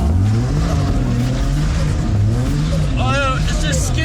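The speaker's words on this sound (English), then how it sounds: "Oh, it's just skidding. It's not going anywhere." Drift car wheels skid and spin in place without the car moving, a steady low engine drone with rising and falling tones and a brief higher squeal near the end, close and loud under a talking voice.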